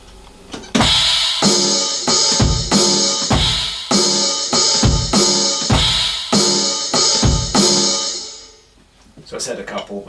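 Drum kit playing a steady beat pattern for a song, with cymbal-bright hits over kick and snare, repeated a few times up close and loud with no talking, ending in a brief pause and a few scattered hits.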